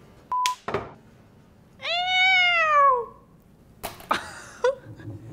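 A voice imitates a cat, producing a drawn-out, rising and falling meow-like wail. Short whoops and breathy yelps from the same voice come just before and after it in an otherwise quiet room.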